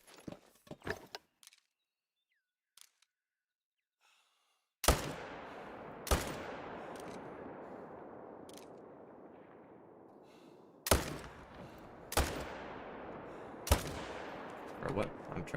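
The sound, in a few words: gunshots from a hunting video game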